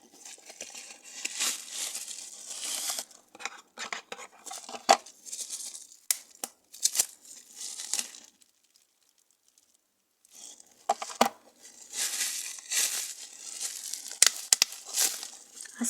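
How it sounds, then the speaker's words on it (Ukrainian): Face powder packaging is unboxed and torn open, giving close crinkling, crumpling and tearing of wrapping in irregular bursts, with a brief quiet pause midway and no talking. "Давайте зробимо розпаковку нашої пудри."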